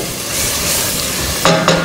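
Onions frying and stirred in a pan for Turkmen pilaf, cooked down until caramelized: a steady close sizzle with two louder scraping stirs near the end, no voices.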